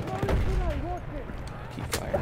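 Gunfire in the World War I shooter Battlefield 1, heard as a few sharp shots and crackling bursts under a busy battlefield din, with a voice speaking over the action.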